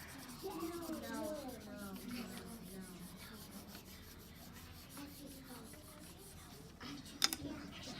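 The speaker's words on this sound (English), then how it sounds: "I'm rubbing just as hard. I'm rubbing just the same amount." Hard, steady rubbing on the back of a sheet of paper makes a faint, dry scratching that continues through the whole stretch, with a sharp brief scrape near the end.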